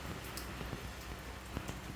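Steady rain in Central Texas after more than a day of downpour, a dense even hiss with faint scattered drop patters, at a fairly low level.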